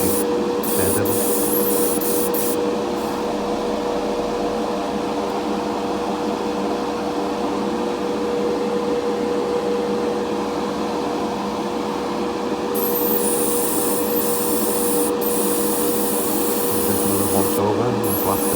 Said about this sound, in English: Just blasting over the tyres as well.